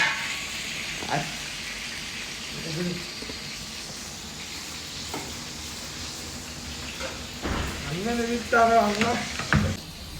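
Brinjal (eggplant) frying and sizzling in a pan during a home curry cook, a steady crackling hiss running throughout with occasional stirring clatter and brief voices breaking in near the end.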